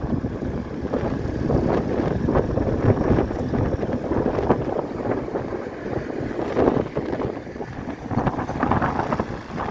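A ferry crossing to Queenscliff gives a continuous rumble of engine and churning water, heavily buffeted by wind noise on the microphone throughout.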